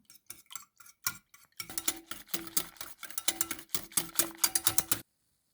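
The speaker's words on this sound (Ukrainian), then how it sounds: "Гарно підбиваємо вінчиком." Rapid metallic clinking of a whisk beating eggs and milk in a bowl, starting with a few scattered taps, then a fast steady rhythm that stops abruptly.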